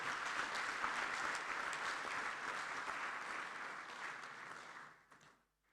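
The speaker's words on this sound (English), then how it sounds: "Please, let's give them an applause." An audience at the 4th African Inter-Parliamentary Conference on Family, Sovereignty and Values applauding, a dense sustained crowd clapping that holds steady, then fades and stops near the end.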